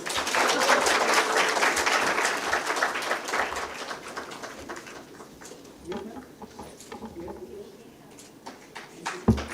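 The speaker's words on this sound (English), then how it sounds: "Can we have more noises in the applause, please?" An audience at a survey report launch event applauds, with thick clapping at first that thins out into scattered claps while voices murmur nearby.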